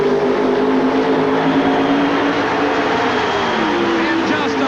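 Drag race cars at the 1988 NHRA Motorcraft Ford California Nationals. Their engines make a loud, continuous roar, and commentary talk runs over it.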